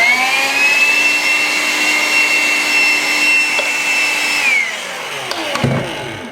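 Vacuum cleaner clearing trimmed deer hair waste while a bass bug fly is tied, a steady loud whine with a high tone that holds for several seconds, then winds down as the motor cuts off, followed by a few faint handling knocks.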